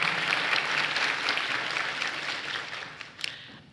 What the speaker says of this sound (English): I give yourself a round of applause.